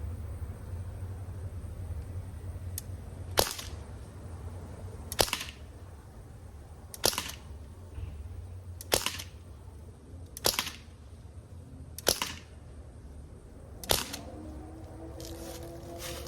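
A Crosman 1077 semi-automatic CO2 pellet air rifle in .177 caliber fired at about 25 steps: eight sharp, fairly loud cracks a second or two apart, each with a brief tail, and quiet between the shots.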